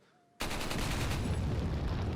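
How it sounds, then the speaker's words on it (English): A hand cannon fired in the 2005 video game Resident Evil 4, one sudden heavy blast after a brief quiet moment, followed by a sustained loud roaring wash that fills the rest of the clip, with no talking. "and then I'll actually fire the hand cannon."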